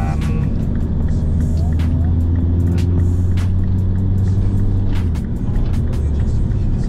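Modified Mini Cooper S R56 with a stage 2 engine tune driving on freshly paved road toward town, its steady low engine drone and road rumble filling the cabin throughout, with a few faint clicks above.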